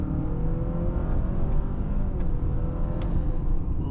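A 2026 Honda CR-V Sport Touring accelerates from inside the cabin, a steady low engine drone with road rumble that holds evenly from start to finish.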